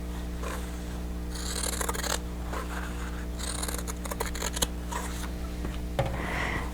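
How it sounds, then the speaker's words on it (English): Scissors snip through chained quilting threads and cut fabric pieces apart along a drawn line, a series of close, crisp cuts and slides with brief pauses between them, quiet hum underneath. "I'm going to go ahead and cut those threads there and then cut these apart on the drawn line"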